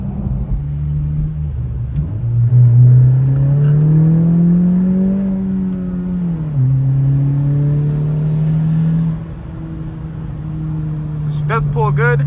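A Honda Type R fitted with a Remark exhaust, running on winter tires, rumbles steadily as the engine note climbs and falls while driving. A crackling burble comes near the end, heard from inside the car.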